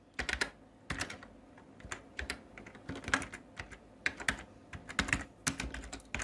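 Code is typed on a computer keyboard in quick irregular bursts of crisp key clicks, with an occasional heavier keystroke, close and alone with no voice.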